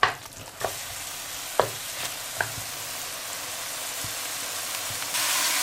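Tomato sauce seasoned with pepper, soy sauce and ketchup sizzles steadily in a pan as a spatula stirs it, with several sharp taps against the pan over the bubbling fry.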